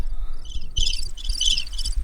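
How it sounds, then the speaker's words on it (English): A cricket-chirping sound effect plays as rapid, high pulsed trills in bursts. They repeat through quiet room noise with faint low thumps underneath. "You sound like crickets"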